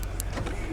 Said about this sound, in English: every time you hit lock, the truck will automatically fold the mirrors in